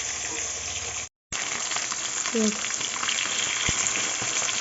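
Fish fries in hot oil, a steady close crackling sizzle that drops out for a moment and returns, with a few faint clatters over the top.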